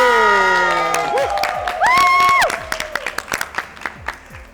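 The FKIP university team cheers and chants its yel-yel at a campus game-show face-off: a loud crowd of voices in rhythmic, sing-song shouting, with clapping bursts that break into scattered claps and whoops toward the end.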